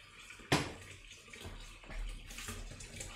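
Tap water runs into a kitchen sink while pasta water heats on the stove, starting with a sharp splash, then a fluctuating, moderately close hiss and trickle that stays steady throughout.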